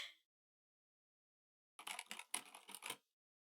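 Computer keyboard keys clatter in a quick burst of typing for about a second, close and fairly faint, after a brief sound at the very start and a stretch of silence.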